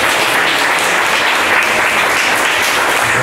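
Audience applause at a Romanian-language talk on SEO and PPC, a dense, steady wash of many hands clapping at full loudness throughout, with no voices over it.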